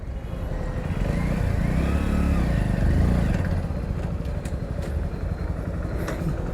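A Hero Splendor Plus 01 Edition 2023 motorcycle engine runs steadily close by, with a brief rise in revs around the middle before settling to an even idle as the bike is brought to a stop and parked.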